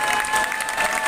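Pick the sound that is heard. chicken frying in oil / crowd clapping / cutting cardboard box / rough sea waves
crowd clapping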